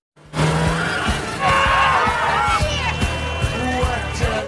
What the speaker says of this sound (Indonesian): Dimulai dari sebuah mobil yang terjun ke dalam jurang dan menghantam salah satu rumah.